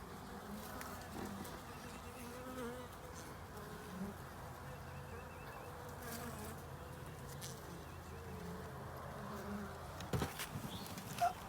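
Honey bees buzzing around a small hive during an early spring inspection, a faint steady hum of many insects with a few soft bumps and handling noises, no clear talking.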